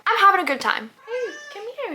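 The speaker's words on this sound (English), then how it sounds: "That's my cat telling me he wants to go outside on the patio." Archie, a pet cat, meows insistently to be let out onto the patio, with several drawn-out, rising cries close by, following a person's speech.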